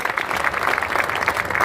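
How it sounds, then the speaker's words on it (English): An audience at a blacksmiths' charity ride event claps in a short, steady burst of applause, close and fairly loud. "So give her a round of applause too."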